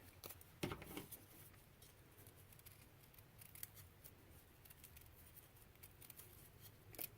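Scissors snip through a small adhesive-backed texture piece, one crisp close cut near the start followed by quieter trimming and handling sounds, with no talking.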